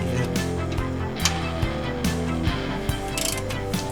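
Wrench working 9/16 and 1/2 inch bolts on an F-Body front end, with sharp metallic clicks and ratcheting snaps at irregular intervals over a mechanical clatter, close and fairly loud.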